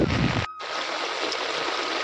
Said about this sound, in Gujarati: પાણી આવે છે ધમધોકર